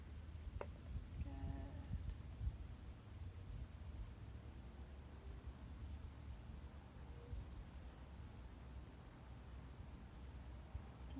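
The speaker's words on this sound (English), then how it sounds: "Can you guys hear our little birds chirping?" Little birds chirp faintly in the distance, brief high calls repeating every second or so over a steady low background rumble.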